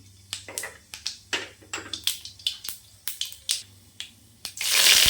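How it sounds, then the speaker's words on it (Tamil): Mustard seeds and urad dal in hot oil, sputtering in a run of sharp, close pops that repeat quickly, ending in a burst of hissing sizzle with no talking. "எண்ணெய் சேர்த்துக்கலாம், கடுகு, உளுத்தம் பருப்பு சேர்த்துக்கலாம்"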